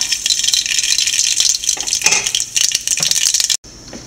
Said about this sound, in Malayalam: എണ്ണ ചൂടായിട്ടുണ്ട് നമുക്ക് ആവശ്യത്തിന് കടുക് ഇട്ട് കൊടുക്കാം